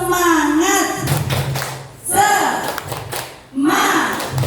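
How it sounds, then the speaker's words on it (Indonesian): A school class performs the rhythmic "tepuk semangat" clapping chant, close and loud, with bursts of group chanting voices and claps in short repeated phrases. "Tepuk semangat."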